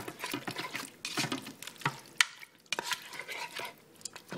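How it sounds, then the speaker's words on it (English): Pulled BBQ beef being stirred in a pressure cooker, with soft wet scraping and squelching in bursts, louder clanks near the middle, and no voices. "Okay, we're going to stir again."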